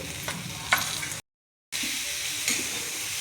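Dry potato vegetable with salt and coriander stir-fried in a pan, giving a continuous close sizzle with soft stirring scrapes, broken by a brief moment of silence.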